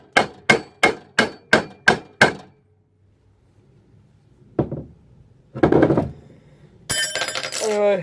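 A hammer strikes an old kitchen knife being forged, seven evenly spaced ringing metallic blows in quick succession, followed by scattered clanks and scraping.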